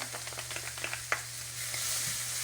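Garlic and ginger go into a pan of sautéing vegetables for a South African fruit and vegetable stew, giving soft stirring taps and then a steady, rising sizzle; fairly quiet, no talk.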